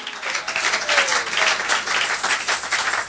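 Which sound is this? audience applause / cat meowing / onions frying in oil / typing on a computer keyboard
audience applause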